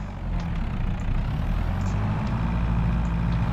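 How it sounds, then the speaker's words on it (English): Engine of a farm vehicle in the video game Farming Simulator 2023, revving and running steadily with a low, droning rumble that stays loud throughout. "Why are we revving?"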